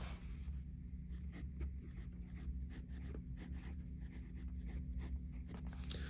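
A slim Sailor Pro Gear Slim fountain pen nib scratches across paper in a quiet room, producing soft, close, pencil-like strokes in an irregular rhythm of short scraping bursts over a low steady hum.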